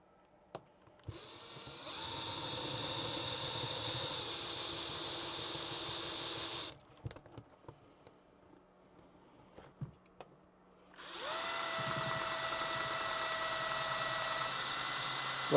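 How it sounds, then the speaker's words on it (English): A power drill bores through a 3D printed neon sign letter in two long, loud bursts of steady whining motor noise, with a quieter pause of handling and clicks between them. "So let's get my drill."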